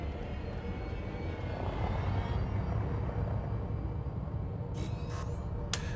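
A spaceship engine throttling up in Elite Dangerous, a low steady droning rumble that swells slightly and then holds, with a few faint clicks toward the end.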